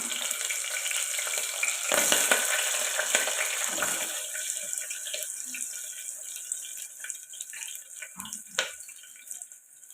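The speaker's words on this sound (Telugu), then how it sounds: "ఇవి ఇలా ఫ్రై అవుతాయి కదండి" Green chillies and onions fry in a pan for tomato dal, giving a steady hiss and crackle across the whole stretch with a few brief clatters, and nobody speaks.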